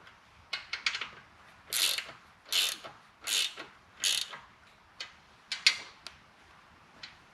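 A ratchet tightens rocker box bolts on a 2004 Harley-Davidson Road King Twin Cam, giving close, crisp ratcheting bursts, about eight strokes in a steady back-and-forth rhythm with brief pauses between them.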